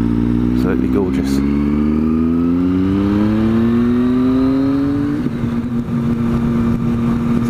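A Triumph Street Triple motorcycle engine under way, a steady close drone that climbs in pitch as the bike accelerates, then holds at an even cruise.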